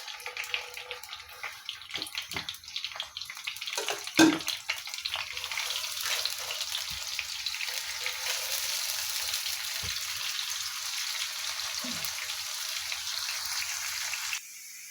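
Chopped onions hit half a cup of hot oil with a steady broadband sizzle and crackle, close and fairly loud, holding evenly for several seconds with a brief clatter early on.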